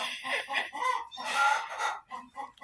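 Rhode Island Red hens clucking close by, several overlapping bursts of squawky, rhythmic clucks with short pauses, one louder run in the middle.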